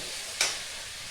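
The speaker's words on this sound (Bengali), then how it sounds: "আলু দিয়ে 2 মিনিটের মতো খুব ভালো করে কষিয়ে তারপরে দেবো।" Potatoes fry in a spice paste for a fish curry, a soft, constant sizzle broken by one sharp scrape of a spoon stirring through the pan.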